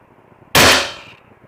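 A single sharp, loud shot from a Valken M17 paintball pistol fired through a chronograph bursts out close by and then trails off quickly into near silence.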